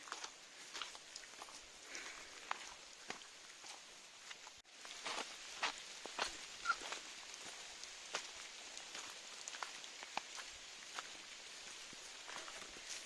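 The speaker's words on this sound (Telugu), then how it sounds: "అది కాక వర్షం కూడా పడుతుంది." Rain falling in the thick Lankamala forest on a trek, a soft steady patter of drops on leaves and ground with scattered closer taps, faint and continuous.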